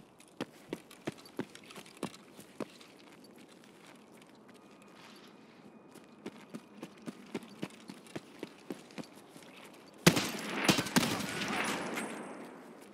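Gunfire in an Escape from Tarkov firefight: sharp single shots fired one after another in steady bursts, fairly close, followed by a louder rush of noise and overlapping blasts; someone talks briefly.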